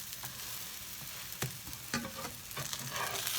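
Egg-free, milk-free pancakes sizzle steadily in a frying pan, with a continuous crackling hiss broken by a few sharper scrapes and taps near the pan, and no voices.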